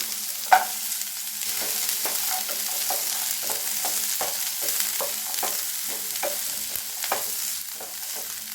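Onions fry in a pan with green chilli, ginger and garlic for a paneer gravy. A steady, loud sizzle runs throughout, broken by regular scraping stirs about once a second, with no talking.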